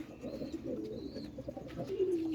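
A silver male pigeon coos in a loft among a pigeon collection, a soft low rolling coo repeating close by, with a couple of faint higher chirps and no talking.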